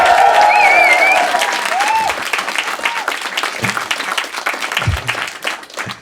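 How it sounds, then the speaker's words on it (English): Applause and some cheering come from a comedy club audience after a song in a stand-up special. The sound starts loud and full, tapers slightly, and continues as a steady wash of clapping, with a few whoops near the start. "Please give Joel a big round of applause."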